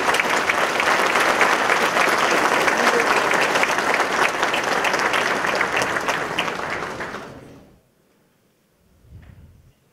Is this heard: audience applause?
yes